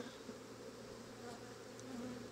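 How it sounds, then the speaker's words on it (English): Honeybees being moved into a hive give a steady, low, continuous buzz that holds evenly throughout, close by and fairly quiet, with no voices over it. "these bees will sort themselves out in time"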